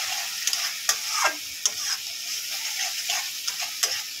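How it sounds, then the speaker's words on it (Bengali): Masala for egg korma is stir-fried in a pan after a splash of milk, giving a continuous sizzle broken by regular spatula scrapes and taps on the pan. "দিয়ে আবারও ভালো করে মশলাটাকে কষিয়ে নেব।"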